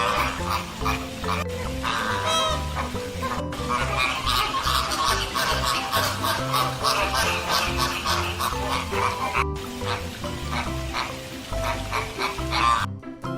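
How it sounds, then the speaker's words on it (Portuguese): A flock of tall pink flamingos calling, a dense, loud, continuous chorus of overlapping nasal honks and grunts close by, with no talking. "Os flamingos são aves altas de cor rosada, com asas grandes e cauda curta."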